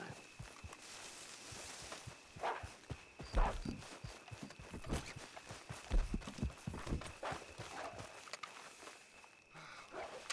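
Horse hooves clip-clop in the video game RedM, a loose, uneven series of soft thuds at moderate distance, fairly quiet, with no talk.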